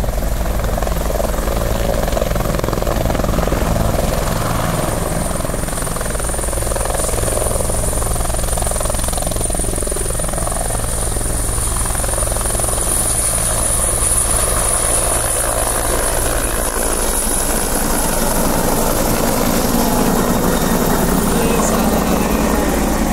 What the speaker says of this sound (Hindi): अपने हेलीकॉप्टर में बैठ के उड़ गए